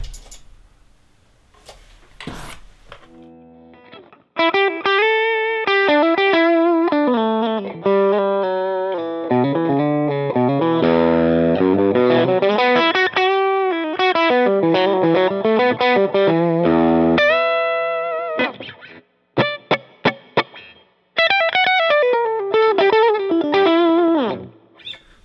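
Electric guitar on its bridge pickup through a Line 6 Helix with heavy distortion: loud, dense riffing and sustained chords in continuous phrases, with brief pauses and a few muted picks at the start.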